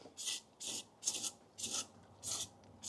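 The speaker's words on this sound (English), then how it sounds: "Gonna scrape it off. That is way too thick to wipe off." Thick, 5 mm gunk scraped off a 30-year-old hydraulic floor jack during a restoration, six steady rasping strokes in an even rhythm, close up with no talk.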